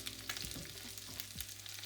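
Hot frying oil in a saucepan on the stove, being readied for cooking rice, gives a steady low sizzle and crackle with a few clicks and knocks, close and continuous with no talking.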